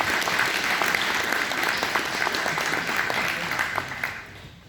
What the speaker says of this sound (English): So, big round of applause for our panelists today.